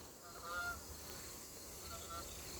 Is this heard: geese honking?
yes